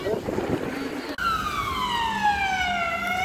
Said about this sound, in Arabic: سيارة اسعاف